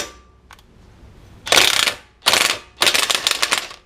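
A ratchet turns an 18 mm socket on a suspension clamp bolt of a 2015 Ford Focus during lower control arm work. It gives three quick bursts of rapid clicking, close and crisp, with short pauses between.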